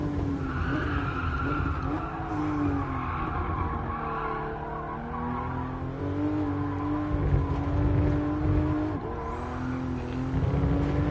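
A GR Supra GT Cup car in GT Sport slides sideways around the Fuji track, tires skidding and squealing over a continuous revving engine drone, loud and close, with pitch shifts as boost kicks in.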